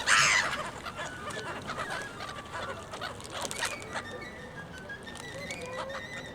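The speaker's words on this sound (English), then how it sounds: "There's somebody feeding the birds, and the birds are enjoying being fed." Waterfowl by Lake Geneva being fed, honking and clucking in a busy flurry that is loudest at the start and then settles into scattered calls.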